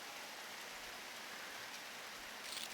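Steady rain falls in a video game, a dense even hiss of drops on surfaces with no other sounds.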